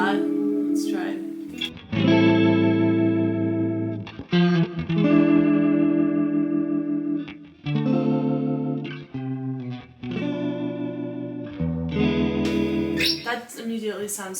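Electric guitar played through a JHS effects pedal with reverb added, sustained chords and notes ringing out in a washy, chorus-like tail with brief gaps between phrases, loud and close.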